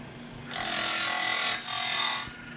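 Grinding a sawmill blade's gullet and face gives two close, harsh, high-pitched passes of steel on abrasive, one after the other with a short dip between.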